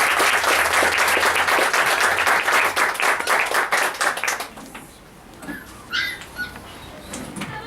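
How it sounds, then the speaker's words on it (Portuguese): A church congregation claps loudly in sustained applause for about four seconds, then the clapping thins out into scattered claps and quieter room noise. "Vamos receber o servo do Senhor com a salva de palmas em nome de Jesus"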